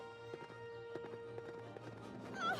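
Horse galloping in a race in a Rapunzel video game, a rapid rhythmic clip-clop of hooves at steady pace over a low game hum, ending in a brief whinny-like tone.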